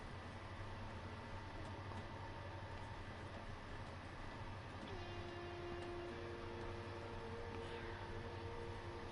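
Quiet, continuous rumble of a train ride in Final Fantasy XV, with a steady rolling drone, faint rattles and a soft sustained whine joining partway through. No voices are heard.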